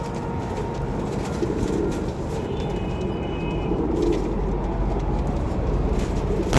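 Pigeons at a loft in Jhelum coo softly and repeatedly over a steady, dense murmur of background noise, the calls close but partly buried.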